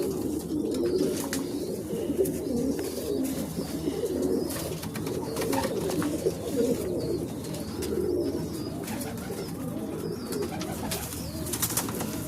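Bearded pigeon cooing, soft repeated low coos in a steady rhythm close by, with faint chirps and light background noise.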